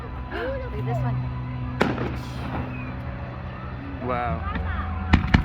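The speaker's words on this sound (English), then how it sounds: "Because I like the fireworks so much." Fireworks burst at a Vernon, BC winter carnival show, giving a few sharp booming cracks and crackles spread over the moment while nearby spectators talk and exclaim.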